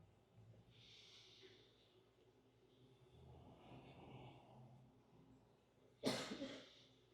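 Soft breathing in a quiet room during a yoga class, then one sudden, sharp sneeze bursts out near the end, loud against the hush.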